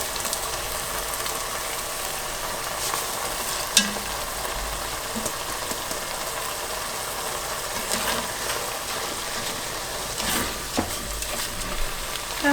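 Rice stirring in a simmering pot of Albanian Shkodra-style stew, a steady wet sizzle and bubbling broken by a few scraping knocks of the spoon, with no voices.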